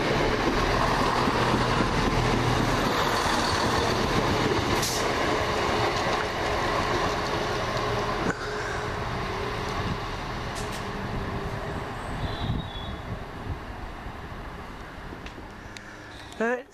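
A passenger train passes close by at London Road station in Brighton, a loud sustained rumble of wheels on rails with clattering and brief squeals, slowly easing off toward the end.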